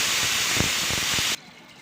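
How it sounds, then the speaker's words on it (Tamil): A loud, steady sizzling hiss fills the air as cooking oil is poured into a heated pan, then cuts off abruptly near the end. "சட்டி சூடாகிடுச்சு. எண்ணெய் ஊற்றிக்கிடுவோம்."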